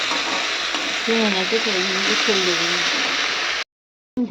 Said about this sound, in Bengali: তো এখন ধুয়ে ভেজে নিচ্ছে